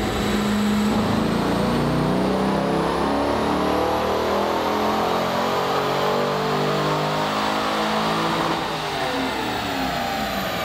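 An LS V8 swapped into a Corvette roars under load on a dyno, a loud, sustained rising rev with a gritty exhaust note that peaks and then begins to fall off, no talking.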